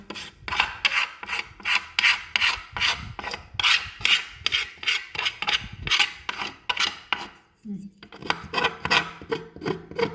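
Rust is scraped off a sewing machine part in rapid, rhythmic rasping strokes, close and loud, with a short pause before the scraping starts again.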